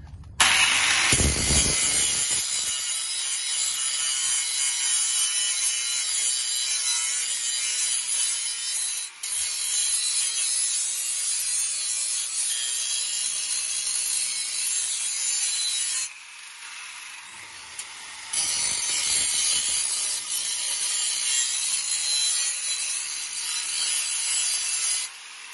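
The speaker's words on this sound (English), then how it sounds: "I'll grind a little bit more." A grinder works on a car muffler pipe during a cheap exhaust repair, a sustained harsh high-pitched grinding that runs almost continuously, with a few brief dips where it eases off the metal.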